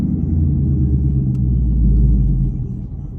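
A manual transmission car engine rumbles low and steady while creeping forward, loud and close throughout, then tapers off slightly at the end.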